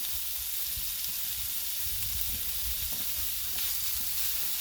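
Thin-sliced pork sizzles on a Blackstone griddle with a loud, continuous, crackling hiss that stays steady throughout, with no voices.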